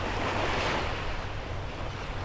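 Ocean waves break on a beach in a steady, soft wash of surf with some light wind noise, moderately quiet and continuous, with no voices.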